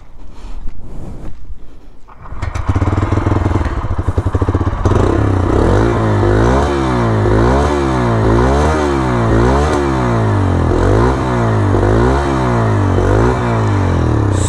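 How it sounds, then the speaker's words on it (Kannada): Bajaj Freedom 125 motorcycle running on CNG, its exhaust note starting after a brief quiet lead-in and then thumping steadily with a low, rhythmic pulsing beat up close, loud and alone. "ಎಕ್ಸಾಸ್ಟ್ ನೋಟ್ ಕೇಳುವ ಹೇಗುಂಟು ಅಂತ ಹೇಳಿ"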